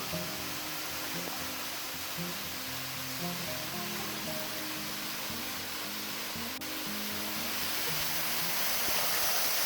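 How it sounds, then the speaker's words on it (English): A steady, dense roar of rushing water fills the scene continuously, like a waterfall heard up close, with no voices. "That's one awesome waterfall."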